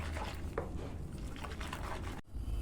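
A strawberry milk pudding mixture whisked in a pot on a low stovetop flame, giving soft, wet, continuous sloshing and squishing close by, with a brief pause near the end.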